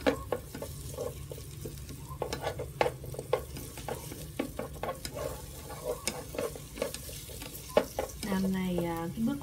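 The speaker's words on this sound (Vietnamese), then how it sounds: "mình sẽ sử dụng luôn cái nồi cơm điện này để mình xào trước cái phần xương nhé" Bones being stir-fried in an electric rice cooker before simmering a sour cassava-leaf soup: steady sizzling with repeated clacks and scrapes of a utensil stirring throughout, close and fairly loud, with a brief tap-water sound near the end.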